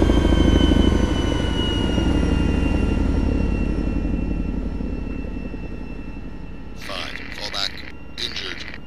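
A Chinook helicopter in a war video game roars loudly with a heavy rotor and engine drone that slowly eases off, while voices speak over the last few seconds.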